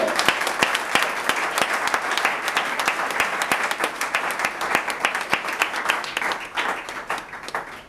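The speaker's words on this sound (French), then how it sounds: "Alors on applaudit très fort." Wedding guests applaud loudly and steadily at a church wedding ceremony, with dense, sustained clapping from a nearby crowd and no talking over it.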